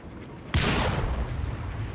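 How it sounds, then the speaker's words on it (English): A single loud explosion bursts in Assassin's Creed Syndicate, set in World War 1, with a sharp broadband blast that decays into a lingering rumble over low ambient noise. "That explosion should have been enough."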